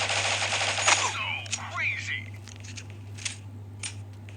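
Rapid bursts of gunfire from a mobile shooting game in a counter-terror match, a dense volley of shots up front followed by a few scattered single shots, with faint game effects beneath.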